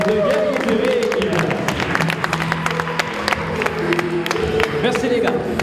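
Steady, dense applause from a crowd at a boxing medal ceremony, continuous clapping with scattered whoops and cheers, with a voice audible beneath it.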